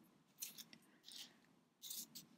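Scissors snip crochet yarn close by, three or four quiet crisp cuts in quick succession against a soft background hum.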